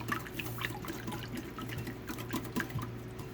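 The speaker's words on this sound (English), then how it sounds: "So add a little water to it." Water poured into a garlic mixture for a smoked chicken salad dressing, a steady close liquid pour and splashing over low background hum, with no talking.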